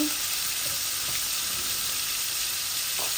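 Three koi fish frying in hot oil with salt, giving a steady, loud, continuous sizzle and crackle close up, with a few faint clinks of utensils and no talking.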